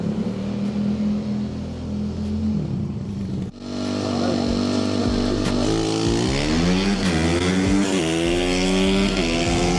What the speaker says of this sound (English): I did let off because the bike was starting to wheelie